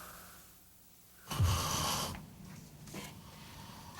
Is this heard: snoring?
yes